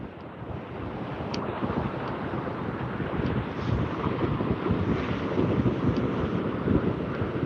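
A racing powerboat skips across open ocean water during an offshore race, heard as continuous rushing wind buffeting and hull-on-water noise with a steady low rumble and no speech.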